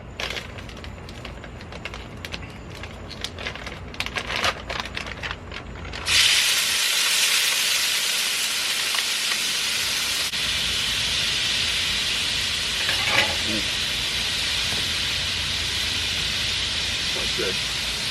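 Shrimp seasoned with a pepper and garlic blend hit oiled Blackstone griddle, starting a loud steady sizzle that holds for most of the stretch after a few seconds of quieter clatter, with occasional pops and no talking.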